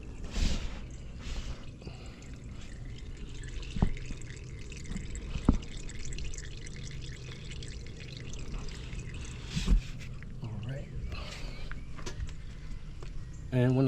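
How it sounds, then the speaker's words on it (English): Dirty engine oil drains from the oil pan of a Dodge Charger V6 in a steady trickling pour with scattered drips, fairly faint, while a person talks over it. "That way the air can flow inside of it and all the oil comes out."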